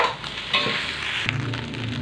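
Cooked rice is stirred and tossed in a hot pan for nasi goreng, a close steady sizzle with scraping strokes of the spatula.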